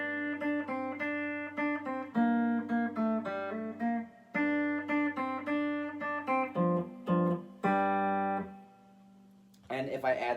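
A clean electric guitar plays the intro riff of a song in crisp, bright picked notes in quick bursts with short pauses, ending as a voice begins speaking.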